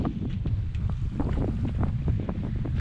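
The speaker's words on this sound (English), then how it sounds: "So we raised the main and had a quick sail back home." A sailboat under mainsail on San Francisco Bay near Clipper Cove, with steady wind buffeting the microphone, water sloshing against the hull and broadband rushing noise throughout, close and fairly loud.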